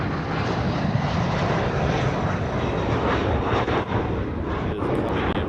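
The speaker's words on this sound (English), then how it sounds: "Here comes the Dreamliner. This is the Hawaiian Dreamliner here." A Hawaiian Airlines Boeing 787 Dreamliner lands at Honolulu, producing a steady, broad jet engine roar that is moderately loud and sustained throughout, with no talking over it.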